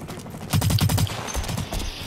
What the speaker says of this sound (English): I'm getting shot from nowhere